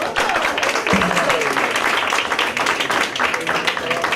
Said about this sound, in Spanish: un gran aplauso a todos